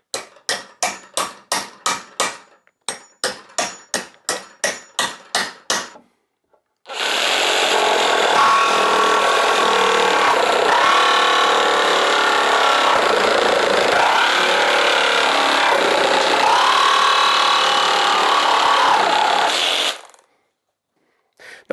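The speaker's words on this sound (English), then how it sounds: "I'm going to be cutting through those, only this time I'm going to be using a carbide tipped blade" A reciprocating saw fitted with a carbide-tipped blade cuts through fluted masonry nails, first in a quick run of evenly spaced rasping strokes, then one long continuous loud grinding cut lasting over ten seconds before stopping.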